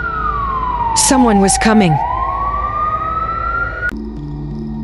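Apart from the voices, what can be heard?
siren outside a hospital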